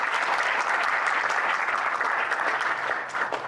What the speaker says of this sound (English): why don't we give a round of applause for that?